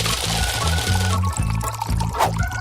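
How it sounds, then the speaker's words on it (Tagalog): Sugar and water pour into a casserole pot, a steady close splashing trickle over a low repeating musical background. "Asukal at tubig. Ilagay ito sa kaserola."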